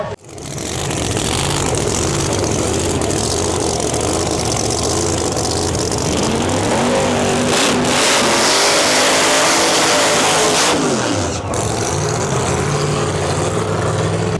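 Drag racing car at the US Street Nationals, its engine loud and close, holding a heavy roar that rises and surges through the run before dropping off near the end, no talking.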